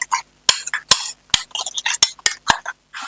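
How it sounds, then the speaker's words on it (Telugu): Green chilli paste being stirred into a dish with a metal spoon, a quick series of sharp clinks and scrapes against a steel vessel, close and irregular. "మనం పచ్చిమిర్చి పేస్ట్ అది ఉంది కదా అది కలిపేద్దాం"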